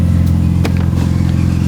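Car engine with no exhaust fitted idles with a loud, steady low rumble and rough clattering drone, with a brief throttle blip partway through; close and continuous.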